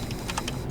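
Quick clacks from a computer keyboard as code is typed, a short run of four or five close keystrokes in a quiet room.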